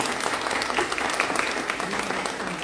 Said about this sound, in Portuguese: Palmas para a nossa modelo.